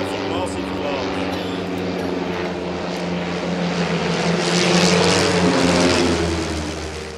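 Propeller aircraft of the Victors formation team flying a missing man formation overhead, a steady loud multi-engine drone that swells slightly midway, with a voice talking over it.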